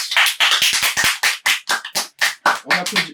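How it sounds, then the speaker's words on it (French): A stand-up comedy audience applauds with sharp, close claps in quick, uneven bursts, separated by short gaps, loud and distinct throughout. "On applaudit les kiffeurs"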